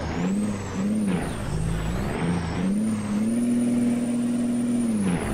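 Chevrolet C70 box truck engine idling and revving loudly nearby, a steady diesel rumble with rising and falling pitch and a high whine throughout, no voices.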